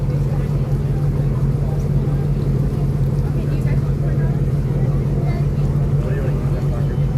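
Steady low diesel boat engine drone with a strong rumbling hum and chugging, continuous and close, like a boat motor idling or cruising.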